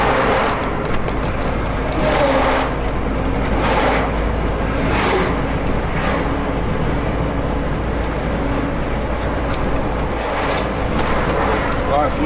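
Car cruising at about 65 km/h on a German national road, a steady loud rumble of engine and tyre roar with wind noise throughout, and someone talking over it.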